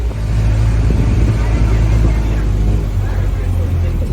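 A tour transport truck in Punta Cana drives along with a steady loud engine roar and road rumble, close and continuous throughout.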